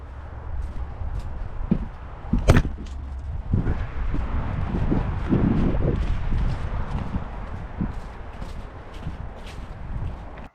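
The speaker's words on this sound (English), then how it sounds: "I'm going to move a bit closer because the wind is so bad here" Strong wind buffets the microphone outdoors at a shooting range, producing a steady low rumble with gusty swells and a few sharp knocks throughout, and no talking.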